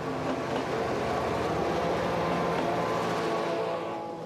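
Named Alexander von Humboldt passenger train arriving from Berlin at Liège-Guillemin station, hauled by a Class 55 loco: a steady, loud rolling rumble with clattering wheel noise that holds throughout, then eases slightly at the end.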